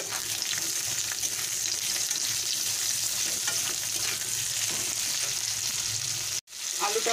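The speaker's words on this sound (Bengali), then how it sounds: "আলুটা ভাজা হয়ে গেছে, এবারে বেগুনটা দিয়ে দেব।" Potatoes frying with garlic in a pan for a water spinach dish give a constant close hiss and sizzle with faint stirring scrapes, steady and even, broken by one brief dropout near the end.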